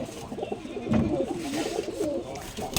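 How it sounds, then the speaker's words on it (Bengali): Black pigeons at a pigeon farm coo in low, rolling, repeated calls up close, a warbling murmur of overlapping birds over a soft background hiss. "দর্শক দেখতে পাচ্ছেন হাসিবুল ভাইয়ের কালো কবুতর"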